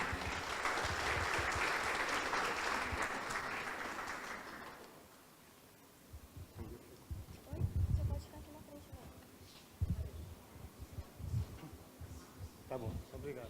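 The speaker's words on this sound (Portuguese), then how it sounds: "Uma salva de palmas, por favor." Lecture audience applauding for a guest professor at an inaugural university session, a loud sustained ovation of many hands for about five seconds that fades, followed by someone speaking.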